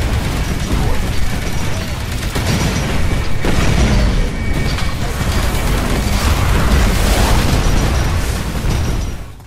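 A dropship blowing up during a Titanfall match on PC, a loud, sustained wall of booming blasts and crashing debris lasting the whole stretch, with voices talking faintly under the din.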